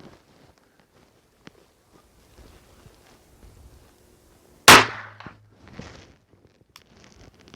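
A rifle fires a reloaded Lehigh Extreme bullet: one sharp, loud report cracks out partway through and decays quickly, set against quiet outdoor ambience with faint scattered movement noises.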